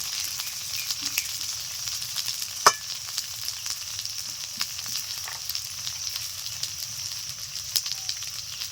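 Green chili, cumin, coriander and chili powder frying in a little oil with a steady hiss and crackle, broken by a few sharp pops and one brief loud clatter near the start, with no voices.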